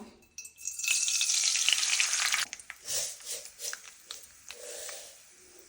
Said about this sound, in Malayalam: എണ്ണയൊക്കെ നല്ല ചൂടായിട്ടുണ്ട് കുറച്ച് കടുക് ഇടാം